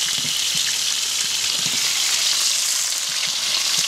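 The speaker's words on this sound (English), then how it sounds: "Couple of chicken breasts and 4 burgers in there at the moment" Chicken breasts and burgers fry in a pan at an overnight bushcraft camp, giving a steady, close, bright sizzle with scattered small pops and no talking.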